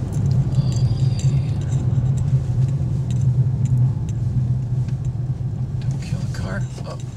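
A car creeping slowly through mountain traffic among giant sequoias just past a construction zone: a steady low engine and road rumble heard from inside, with faint rattles and occasional voices.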